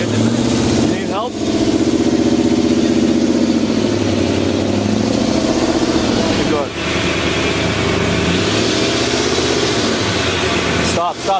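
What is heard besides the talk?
V8 engine running with an exhaust leak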